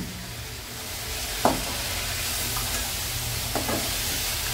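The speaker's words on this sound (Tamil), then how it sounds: "இதை போட்டு நீங்கள் ஒரு 2 நிமிஷம் கிளறி விட்டால் போதும்." Fried parotta stirred in a sizzling spicy chilli sauce, a constant close frying hiss with two soft scraping strokes of a spoon against the pan.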